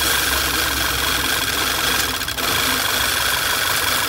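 A Volkswagen Tiguan engine idles with a steady, even mechanical rumble close by, the drone continuing unbroken apart from a brief dip midway.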